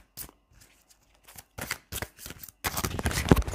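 Guardian angel tarot cards shuffled by hand to draw a single card, soft riffling bursts that build from sparse flicks into a dense, louder run of card noise near the end, no voices.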